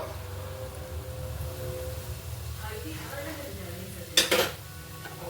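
Carrot halwa with cardamom sugar powder being stirred in a pan, a steady soft scraping with a sharp clink of utensil on metal near the end, under low kitchen background noise.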